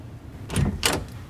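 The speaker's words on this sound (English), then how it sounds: "Open the door." A door swings open in two quick, close bursts of scraping, rattling movement about a second apart, moderately loud against a quiet room.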